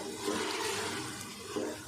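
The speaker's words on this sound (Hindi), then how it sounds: "और साथ ही हम दूसरा वाला पानी भी डाल देते हैं।" Water pours steadily into a pot of black masoor dal being cooked, a continuous rushing splash with no talk.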